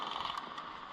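Quiet mechanical clicks and ratcheting snaps from an airsoft DMR rifle being reloaded, a few brief, close taps with a sharper click at the very end.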